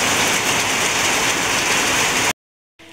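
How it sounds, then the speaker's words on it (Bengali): Heavy rain pours down in a dense, loud, continuous hiss close by, then cuts off abruptly, followed by a short quiet gap and a fainter return. "দেখেন অনেক জোরে বৃষ্টি, আর বৃষ্টির শব্দ দেখেন।"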